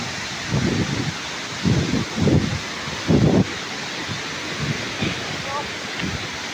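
Strong wind blows outdoors by waterfall pools, with low gusts buffeting the microphone in several loud bursts over a steady airy rush.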